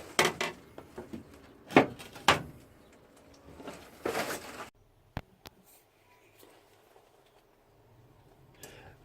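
A glass shelf is pulled out of a fridge being emptied to build a home-brewing fermentation chamber, giving a few sharp scrapes and clunks up close, then quieter handling knocks.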